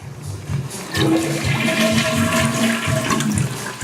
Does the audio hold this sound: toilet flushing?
yes